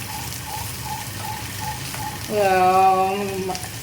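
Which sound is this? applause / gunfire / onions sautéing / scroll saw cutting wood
onions sautéing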